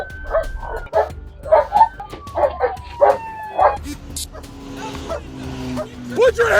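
Police dog barking in quick repeated bursts close by during a traffic-stop arrest, with people shouting over and between the barks.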